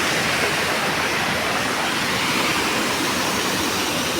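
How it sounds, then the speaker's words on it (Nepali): A loud, steady waterfall roars without a break, a dense rushing wash of falling water close by. "यो चाहिँ तलको फर्स्ट झरना है"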